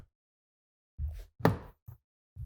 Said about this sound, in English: To do this, we're gonna open the door.